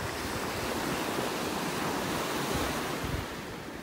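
Steady surf washes continuously onto a beach in North Naples, Florida, a broad, loud roar of breaking waves mixed with wind buffeting the microphone, with no voices.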